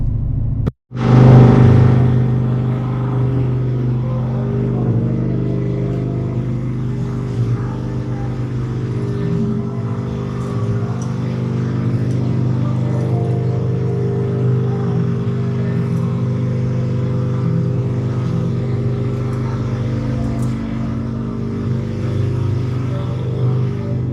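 A Ford Mustang drives steadily, its engine a constant low rumble with a brief loud start after a short cut, continuing unbroken with no talk.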